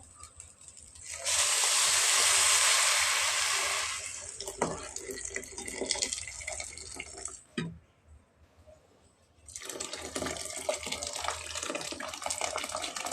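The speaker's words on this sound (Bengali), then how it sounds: "এখন আমি পানি দিয়ে দিব" Hot water pours steadily into a pot of fried rice for Bengali-style pulao, a loud rushing splash that fades after a few seconds, followed by quieter kitchen clatter and shuffling.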